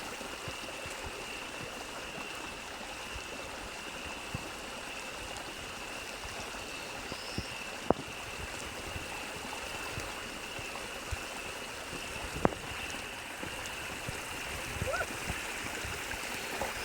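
Continuous rushing water of a flowing stream, steady and moderately loud, with a few faint clicks and taps over it.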